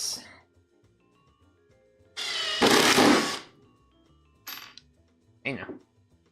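A power drill drives Phillips screws into a wooden crosscut sled for a table saw, with one longer loud burst and two short spins separated by quiet pauses.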